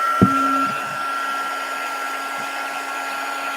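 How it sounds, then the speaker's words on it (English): Heat tool switched on to melt embossing powder for a watercolor craft project, a click and then a loud, steady whirring blower hum that runs on without a break. "now get the heat tool. Now, this is kind of loud"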